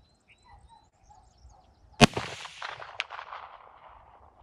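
A single sharp gunshot from a .44 Magnum carbine fired outdoors at a steel plate at range, a loud crack followed by a rolling echo and a faint distant ping about a second later, then quiet.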